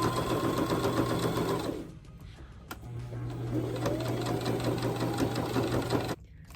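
A sewing machine stitches shorts with a loud, close, steady mechanical whir. It stops briefly for a pause, then starts again and runs steadily before cutting out.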